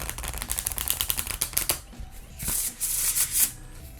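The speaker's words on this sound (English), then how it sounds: "These should be much easier to shuffle than my homemade deck." Professionally printed playing cards, made to replace a homemade deck for a Harry Potter Exploding Snap game, being shuffled: a run of rapid, close crisp riffle clicks, then a brief pause and a softer, sustained whoosh of cards falling together.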